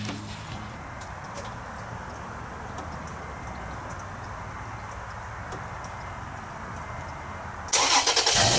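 A 2011 Toyota Tacoma V6 pickup engine runs at a steady mid-pitched idle in a garage, a low continuous rumble that holds evenly before a sudden louder burst near the end.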